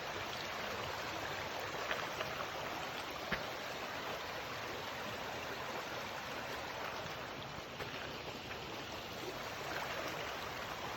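A creek flows steadily during a summertime backpacking trip in Red River Gorge, a constant broadband rush of water, close and even, without any voices.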